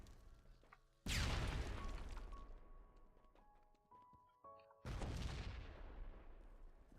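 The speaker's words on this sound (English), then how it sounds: "Heard an explosion from over here." Two loud explosions boom in a video game, one about a second in and another near the end, each a sharp blast with a long decaying rumble, and faint electronic tones sound in between.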